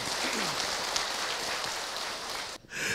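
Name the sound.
audience applause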